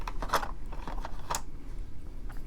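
White yarn is snipped with scissors beside an LK 150 knitting machine, giving a few quick, crisp snips close by with soft handling noise in a quiet room.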